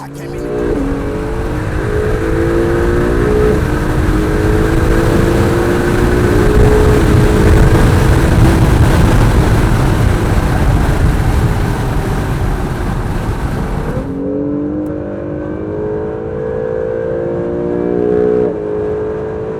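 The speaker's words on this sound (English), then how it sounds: "giving us a ride along in his 2018 Acura NSX" A 2018 Acura NSX, a tuned 700 hp sports car, roars loudly and steadily from inside the cabin with rising revs and gear changes, then drops to a quieter idle and a brief rev near the end.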